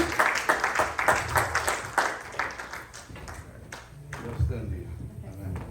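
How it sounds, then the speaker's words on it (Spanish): A church congregation claps in a burst of applause that gradually thins out, with a voice speaking over and after it in a reverberant hall. "Dale un aplauso al Señor"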